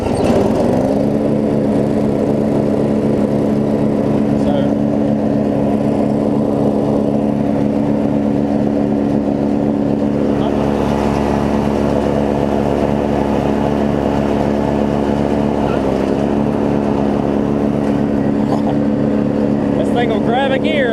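A Murray rear-engine riding mower runs steadily after a valve grind, its engine droning loud and close with a slight surging rise around the middle, continuous throughout.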